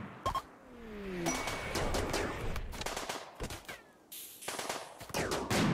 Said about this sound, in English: Gunshot, sniper rifle.